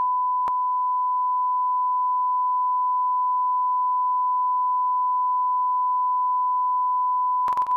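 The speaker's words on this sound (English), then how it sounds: "That was the longest deprogram beep in history." A long, steady censor beep tone holds one pitch for nearly eight seconds, loud and unbroken, with a brief click near the start and a short burst of noise at the end.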